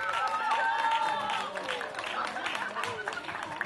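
Audience applause for prize winners at an outdoor potato festival in Poland, a dense, steady clatter of many hands with crowd murmur that stays fairly even and slowly fades slightly over several seconds.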